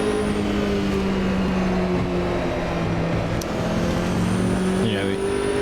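Nissan R390 GT1 race car in the Automobilista 2 racing game, a loud sustained engine drone holding a steady pitch down a straight, with a brief gear-change dip near the end.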